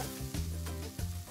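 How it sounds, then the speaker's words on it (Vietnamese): Enoki mushrooms frying in hot oil in a pan, a steady close sizzle with a few bursts of crackle and stirring, no voices. "Mình chiên chiên nấm trước. Nấm kim châm."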